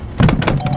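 A trash bin knocked over in the Trash Panda video game gives a hollow clatter of several quick thumps and knocks close up, with no voices.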